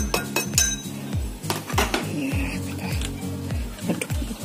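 A spoon stirs chopped garlic sauce for Korean cream cheese garlic bread in a metal bowl, clinking and scraping against the sides in quick repeated strokes, close and clear.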